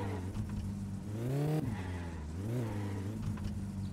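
A Satsuma car's engine revs and drops repeatedly as it is driven in My Summer Car, a rising and falling motor whine heard close and alone, with no voices.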